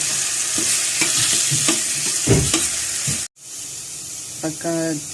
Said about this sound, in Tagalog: Halo-haloin lang natin.